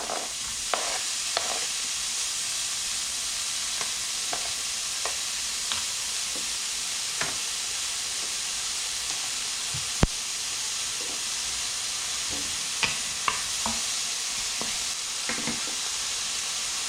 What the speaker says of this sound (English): All right, we have a hot pan. We're gonna take our bacon.